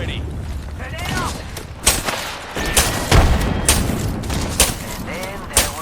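Grenade blasts and gunfire in a Fuse match of the Apex Legends Inner Beast event, with repeated sharp booms and shots at irregular intervals under character voice lines.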